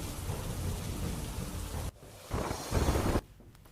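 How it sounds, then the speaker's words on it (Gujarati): Torrential monsoon rain pours down in Porbandar, with thunder rolling through a dense, loud roar that drops away briefly and surges back. "પોરબંદરમાં અનરાધાર વરસાદ પડ્યો છે"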